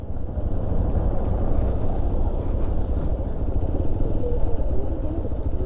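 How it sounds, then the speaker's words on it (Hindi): A motorcycle rumbles steadily close by while being ridden into parking near Mehrangarh Fort in Jodhpur, its low engine drone loud and constant with rough road and wind noise mixed in. "यहाँ पर लगाएंगे हम अपनी बाइक को"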